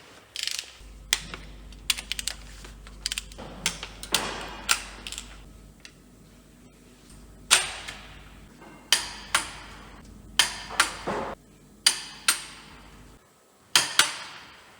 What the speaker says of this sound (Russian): Закручиваем болты ГБЦ заданным моментом.